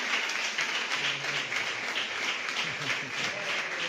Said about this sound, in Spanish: Mira, Aurora, un aplauso para ti.